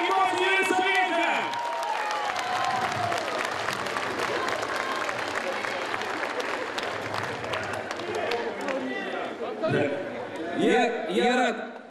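A festival audience claps steadily and loudly after a duet's performance, with cheering and crowd chatter mixed in and a voice speaking at the start and end.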